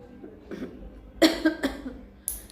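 Several harsh coughs from a person with a cold, close to the mic, a quick burst of two or three and then one more after a short pause, in an otherwise quiet room.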